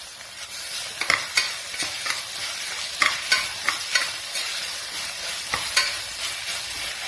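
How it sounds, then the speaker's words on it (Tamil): Tomatoes sauté in a pan with paste for a hotel-style vegetable kurma, a steady close sizzle broken by repeated scraping stirs of a spoon against the pan, with no voices. "தக்காளி நல்லா மேஷ் ஆகிற வரைக்கும் இதை நல்லா ஒரு 2 மினிட்ஸ் வதக்கணும்"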